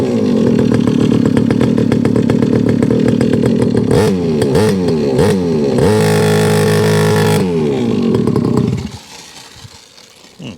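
A Rebo quad bike ATV engine runs loud and close after ignition, buzzing steadily, then revving up and down in several sharp bursts before sputtering and dying away near the end.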